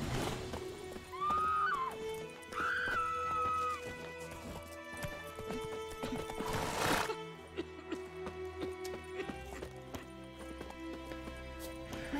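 In The Witcher video game, a horse whinnies twice in rising, drawn-out calls, and hooves clip-clop over a busy in-game soundscape with music, faint voices and a sharp burst midway.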